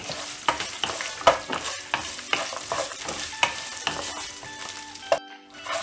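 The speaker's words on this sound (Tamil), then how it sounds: "தேங்காயெலாம் ஃப்ரை ஆன உடனே புளி ஆட் பண்ணிடலாம்" Coconut frying in oil, with tamarind then added, gives a crackling sizzle under frequent close, rhythmic stirring scrapes and clinks that stop abruptly near the end.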